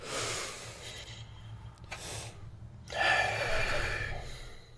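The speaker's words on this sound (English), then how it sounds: "So take a deep breath" A slow, audible deep breath drawn in and then let out, close and breathy, with a sharper intake near the end, standing alone without talk.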